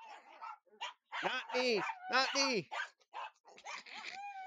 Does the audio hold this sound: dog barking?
yes